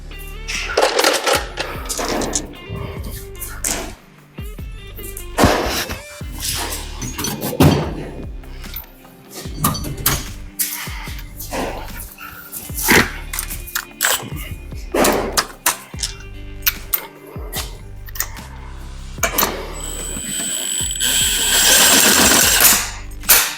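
Lug nuts being run onto a Lexus GX470/GX460 spare wheel on a swing-out tire carrier, likely with a power tool, in repeated loud rattling bursts with metallic clunks between them. No talking.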